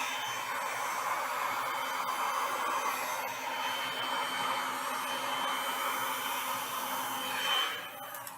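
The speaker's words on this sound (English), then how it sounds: "I'm heating it up as it goes to make life easier for it." Hot air blower heating setting Stone Coat resin art, a steady loud close whoosh of blowing air that runs almost unbroken and then fades slightly near the end.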